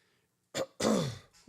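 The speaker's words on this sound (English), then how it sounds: "I will be clearing my throat a lot too" A close, clear throat clearing: a short rough burst, then a longer raspy clearing with a falling tone, and a brief third catch at the end.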